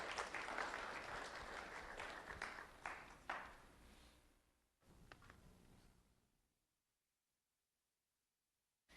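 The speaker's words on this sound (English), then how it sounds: "Let's have a round of applause for Antron Sheared." Applause from an audience at a school recognition ceremony for an honoured elementary student, a dense burst of clapping that thins out and fades to silence by the end.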